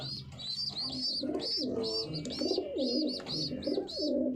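Racing pigeons coo repeatedly in a hot-weather loft, a steady run of soft, throaty calls close by with a few chirps mixed in and no talking.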